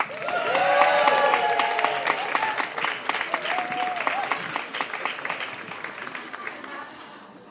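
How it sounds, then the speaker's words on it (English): An audience at a poetry slam claps hard and cheers, with whoops rising over dense applause that stays loud and close before slowly thinning out. "Keep that whooping going. Keep that cheering going."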